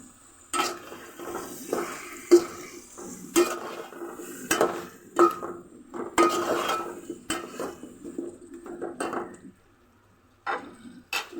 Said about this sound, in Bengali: এখন কাঁচা কলা দিব, তারপর আলু দিব, দিয়ে ভালো করে কষিয়ে নিতে হবে।